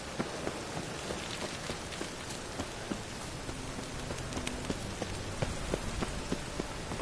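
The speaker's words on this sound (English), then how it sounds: "I like rain." Rain falls steadily in The Witcher 3, a dense even hiss with scattered droplet ticks and a faint low rumble, continuous and without speech.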